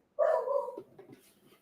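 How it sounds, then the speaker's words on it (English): A single close, loud bark from a dog, followed by a brief soft whimper, in a quiet indoor room. "My dog is barking for my attention."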